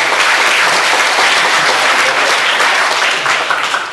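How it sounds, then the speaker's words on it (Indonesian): An audience at a university public lecture at IPB Bogor breaks into loud, close, continuous applause, many hands clapping densely and evenly before it starts to thin out slightly at the end. "Tepuk tangan untuk adik-adik sekalian"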